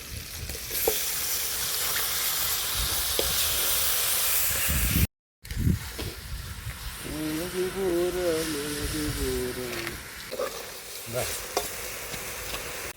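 Washed chicken pieces hit a hot pan with loud, steady sizzling and hissing, stirred now and then. A short break interrupts it midway, and a voice talks briefly over the frying.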